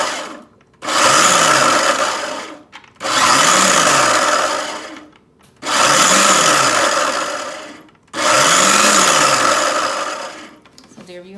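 Blender pulsing on low in four bursts of about two seconds each, with short pauses between, roughly chopping vegetables for a spicy sweet chili sauce to go with red snapper; loud and close.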